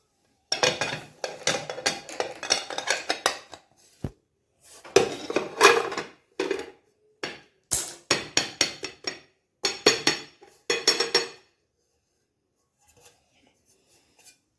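Clinks and scrapes of a utensil against a plate in short bursts as a wheat cake is moved onto it, with a few sharp knocks and quiet pauses, close by.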